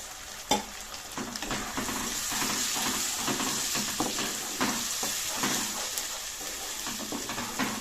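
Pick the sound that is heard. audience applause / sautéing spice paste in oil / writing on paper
sautéing spice paste in oil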